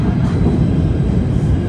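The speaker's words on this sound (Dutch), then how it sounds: "Even wachten op het treintje." A New York subway train rumbles steadily throughout at high level, a continuous low roar of rolling wheels with no voices.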